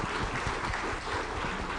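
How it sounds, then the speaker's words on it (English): An audience at a conference congress applauds panelists, with dense, steady clapping filling the room at an even level throughout the short stretch. "Can we please give them a round of applause?"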